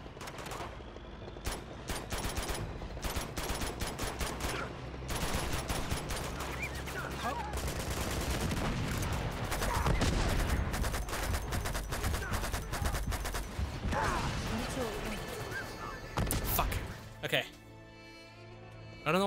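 Rapid bursts of turret gunfire from the video game Uncharted 2 rattle on for most of the stretch, dense and loud with sharp repeated shots, and a voice talks over them.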